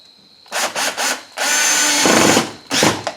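A power tool runs in short bursts and then a longer steady whir while tightening bolts on the gas tank filler neck of a 1998 Subaru Outback, loud and close, with a final brief burst.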